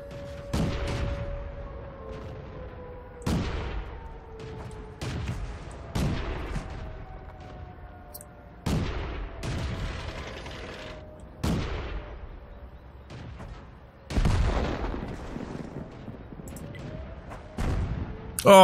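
Artillery fire in the tank battle game World of Tanks: about eight heavy, booming shots land at irregular intervals, each with a sharp crack and a decaying rumble. A faint engine whine runs underneath.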